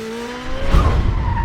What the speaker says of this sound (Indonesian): Ada mobil datang.